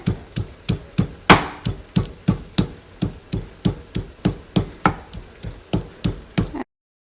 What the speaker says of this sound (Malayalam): അപ്പോൾ ഞാനിവിടെ ഒരു മൂന്ന് വലിയ അല്ലി വെളുത്തുള്ളി ഇട്ടിട്ടുണ്ട് അപ്പോൾ അത് നന്നായിട്ടൊന്ന് ചതച്ചിട്ടെടുക്കുക